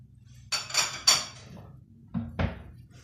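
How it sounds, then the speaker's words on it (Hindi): Ghee poured from a bowl into a pan for suji and besan barfi: a few sharp metallic clinks and scrapes of the bowl against the pan, then a pause and two more knocks, close up and without talk. "प्याले में जितना घी था सब हम इसमें डाल देंगे।"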